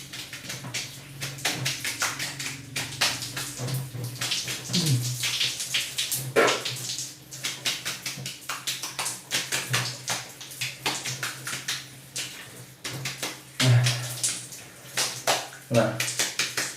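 Running water rinses a hair toupee, a steady splashing wash with intermittent sloshing and handling, moderately loud and continuous throughout.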